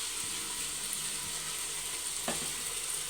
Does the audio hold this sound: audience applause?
no